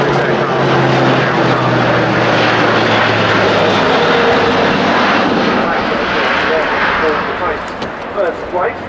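An Airbus A400M military transport aircraft flies at the Royal International Air Tattoo, its propeller engines giving a loud, sustained droning roar that fades slightly near the end while a narrator talks over it.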